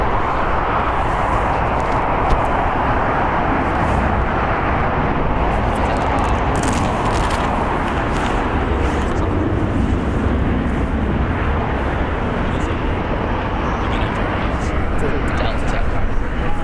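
An airliner takes off at LAX, a loud broad continuous engine roar filling the scene, with radio and commentary voices talking over it.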